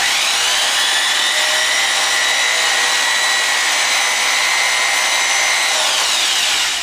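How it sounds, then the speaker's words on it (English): A handheld electric drill spins a homemade yoyo string tight, giving a steady, loud, high-pitched motor whine that holds constant throughout with no voices. "I'm going to put it around the drill thing. I'm going to keep it tight, and now I'm going to just start drilling."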